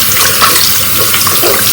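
Water runs loudly and steadily from a sink tap over soapy hands while they are washed with homemade hand soap, a close, constant rush with no talking.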